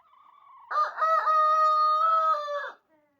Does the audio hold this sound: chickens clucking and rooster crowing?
yes